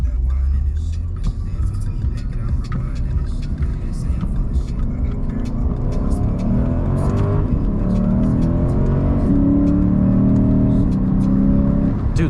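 A 2023 Lexus IS500 F Sport V8 pulls hard from inside the cabin, its engine roaring loudly and climbing in pitch through quick gear shifts, with occupants talking over the engine.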